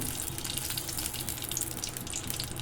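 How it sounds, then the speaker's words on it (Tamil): Cooking oil, about one and a half ladles, poured into a pan for tomato chutney makes a steady, close hissing wash with no speech. "இதில் வந்து நம்ம எண்ணெயை ஊற்றிக்கலாம்."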